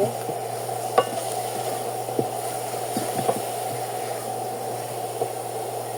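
Spice masala of turmeric and other ground spices with salt sizzles steadily in a pan while a utensil scrapes and stirs it, with a few sharp clinks over the constant frying hiss.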